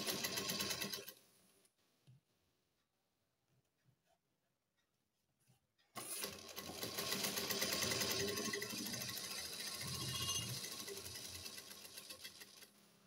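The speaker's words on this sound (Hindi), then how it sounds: "अब हम इसको कली को हम सिलाई कर रहे हैं इस तरह से" An electric sewing machine stitches salwar kameez kali panels in a steady, fast whir, pausing into near-silence with a few soft clicks before resuming at full, continuous speed.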